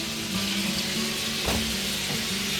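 Chicken adobo pieces fry in hot oil in a pot, giving a steady, close, loud sizzle throughout with a brief rise in crackle midway.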